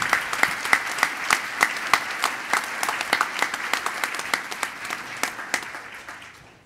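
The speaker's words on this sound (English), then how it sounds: "so please give a round of applause." A round of applause at a church conference worship and plenary session, individual close claps ringing out clearly over a lighter crowd wash, gradually fading out toward the end.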